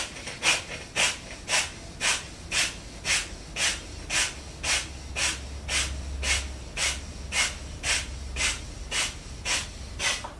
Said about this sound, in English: through the nose to inhale, through the nose to exhale